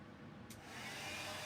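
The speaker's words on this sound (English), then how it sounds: "Back to the hair dryer." A hair dryer blows in a steady, close, whooshing rush while drying a zen stones and candle craft, growing slightly louder partway through, with no talk.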